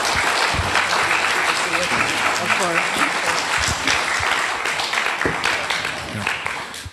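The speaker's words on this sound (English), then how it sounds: "Let's give another round of applause" A membership meeting audience gives another round of applause for Controller Betty Yee, dense and sustained clapping with voices talking over it, tapering off toward the end.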